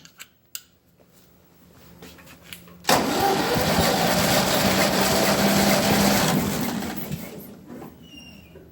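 A few clicks, then a Ferguson TEA20 tractor engine cranks and roars to life, running loud and steady for several seconds before settling into a lower idle.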